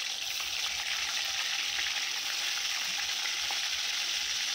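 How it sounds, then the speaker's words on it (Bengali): Rohu fish fries in a pan in a home kitchen, giving a steady, fairly soft sizzle and crackle throughout with no talking. "তার জন্য মাছটাকে ভেজে নিচ্ছি।"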